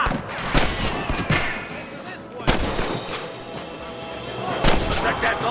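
Gunfire from a Red Dead Redemption shootout mission: several sharp, loud shots crack out at irregular intervals over a busy game background with voices talking.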